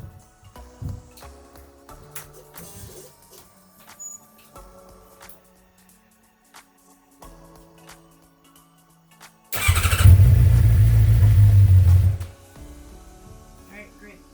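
A 2014-or-later Suzuki GSX-R 600/750 with a freshly fitted lithium-ion battery fires up with a loud roar and runs for about two and a half seconds, then cuts off, after a stretch of quiet ticks and clicks.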